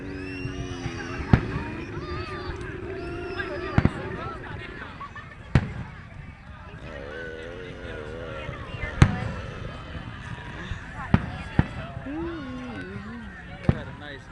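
Fireworks at a 2010 Maryland display burst in sharp booms and crackles at irregular intervals, some close and loud, others farther off, while people chat throughout.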